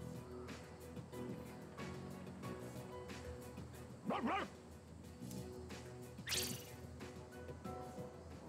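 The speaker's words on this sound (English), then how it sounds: "Koromaru's trying to reason with this stray dog." A stray dog in Persona 3 Reload gives a couple of short barks and yips, spaced several seconds apart, over steady game music.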